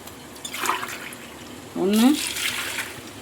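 Water poured from a tumbler into soaking rice for country-chicken biryani, heard as two short splashing pours, the second louder and fuller, close by in a quiet kitchen.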